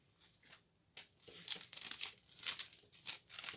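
A plastic bag crinkles and rustles in short, uneven bursts while a wholesale order is being packed, with brief pauses between handling sounds.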